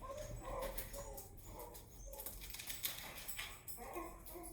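Happy dogs at a house make faint whimpers, yips and scattered barks at a distance, intermittent over low background noise.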